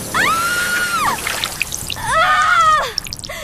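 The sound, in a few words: water gun jet spraying water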